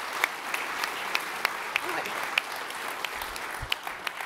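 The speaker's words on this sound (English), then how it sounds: "Can we give a round of applause to these people?" Audience applause for Terraform Google provider maintainers at a tech talk, a crowd clapping steadily with some sharper individual claps standing out, moderately loud and continuous throughout.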